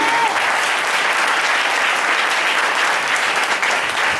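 A church congregation applauds the Lord in a dense, steady burst of clapping that fills the room at an even loudness, with faint voices mixed into the crowd.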